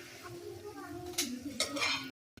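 A spoon stirs coriander-cumin powder and garam masala into an onion gravy in a pan for eggplant bharta. Close scraping strokes include a couple of louder swipes, then the sound cuts off abruptly.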